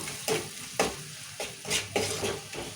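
Chicken with salt and turmeric stirred in hot oil for a curry: a soft sizzle broken by rhythmic scraping strokes of a spoon, about five in quick succession, close and fairly quiet.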